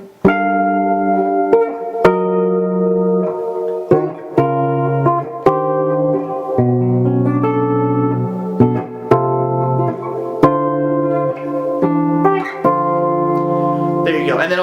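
Electric guitar plays a section of a piece, sustained legato chords and melodic lines ringing continuously with occasional sharp pick attacks, close and fairly loud, with no talking over it.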